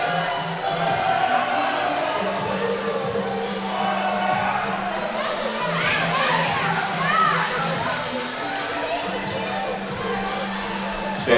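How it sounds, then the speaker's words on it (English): Loud crowd at an indoor volleyball match, with guys in a corner getting into it, keeps up a continuous roar of voices and shouts, swelling midway, with talk mixed in. "So got a loud crowd here"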